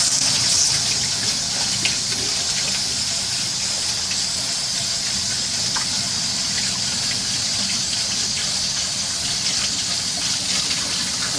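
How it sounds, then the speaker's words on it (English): About four gallons of water gush down the toilet of a Rockwood Mini-Lite 2109s RV into the black tank, a loud, steady hissing rush that carries on unbroken. "we're going to go right down that stool with about 4 gallons of water."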